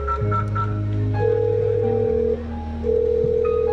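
A telephone placing an outgoing call gives a run of electronic tones: short beeps, then steady ringback tones with a pause between them, heard clearly and alone with no talking.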